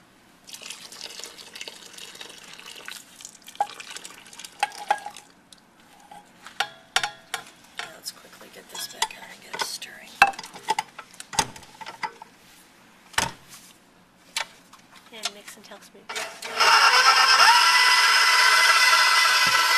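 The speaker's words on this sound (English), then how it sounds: "Put the boiling hot lait or milk and pour it into the mix." Liquid pours in with a steady gush near the end as boiling hot milk is added to a cream puff mixture, after a series of clinks and taps of a utensil stirring and scraping in a bowl.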